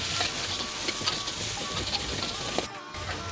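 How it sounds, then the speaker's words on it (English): Green chilies stir frying in a pan, a close sizzle with rapid scraping and clattering from stirring, briefly dropping out near the end. "let it stir fry for about 2 to 3 minutes until the green chilies are softened"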